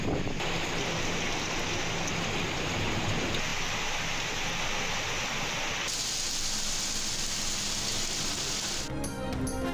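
Torrential monsoon rain pours steadily in a dense, continuous roar, with a slight shift in texture midway and a brief crackle near the end, no voices.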